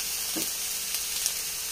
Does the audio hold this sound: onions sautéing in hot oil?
yes